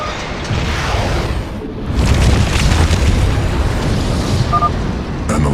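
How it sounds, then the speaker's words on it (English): An experimental warhead detonating in StarCraft II, a heavy booming explosion that swells into a long rumbling roar with whooshing debris, loud and sustained for several seconds. "Fire the damn warhead now!"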